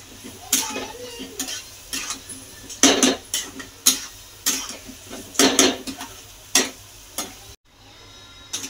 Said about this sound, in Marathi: आता मी त्यात वांगे टाकून घेतले. वांगे पण आपण चांगले परतून घेऊ.